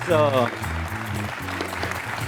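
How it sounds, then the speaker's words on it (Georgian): A studio audience at a televised book quiz applauds a team, a broad patter of clapping heard under a host's continuous speech. "რომელიც იმსახურებს ხურვალი აპლოდისმენტებს"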